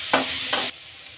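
Green garlic is stirred in a hot pan, giving two short bursts of scraping sizzle close by, then a quiet tail.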